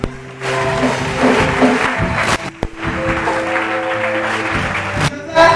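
A church congregation claps and cheers loudly together, the applause dense and sustained with brief dips, mixed with voices and music in the background.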